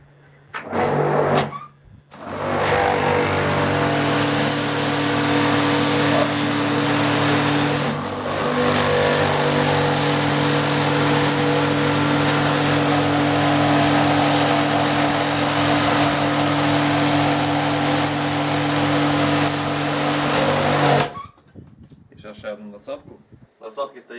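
Kraissmann 2500 HDRI 170 mini pressure washer with a turbo nozzle spraying concrete paths, a loud continuous motor drone and hiss running for about twenty seconds before cutting off.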